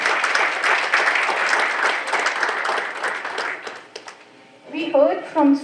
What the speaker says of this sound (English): give a big round of applause for this powerhouse